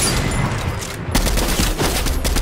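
Dense, loud bursts of automatic gunfire and scattered shots in a shooter video game, an enemy taking pot shots at the player, continuous and close throughout.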